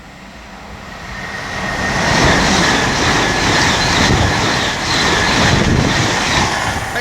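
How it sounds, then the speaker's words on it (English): A Great Western Railway IET train bound from Hereford to London Paddington passes by, its rushing roar and wheel rumble swelling early and then holding strong and continuous, with no one speaking. "the next one to pass by is the Great Western Railway IET from Hereford to London Paddington"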